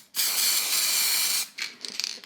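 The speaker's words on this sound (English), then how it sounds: "I just use a blast of layering spray or other glue" An aerosol can of spray glue lets out one steady, loud spray hiss of over a second, then a few short, rattling puffs.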